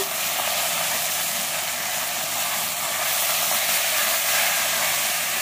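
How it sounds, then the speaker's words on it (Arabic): Washed, drained rice being sautéed with golden-browned vermicelli in ghee and oil, a steady, dense sizzle and hiss that holds close and even throughout, with no talking. "هنزل بالرز بعد ما غسلته كويس وصفيته. شوحيه مع الشعريه"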